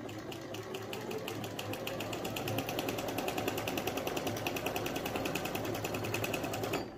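A Janome 8100 sewing machine runs steadily through a continuous stretch of stitching, its rapid, even needle clatter and motor hum sustained and close for the whole span with no talk.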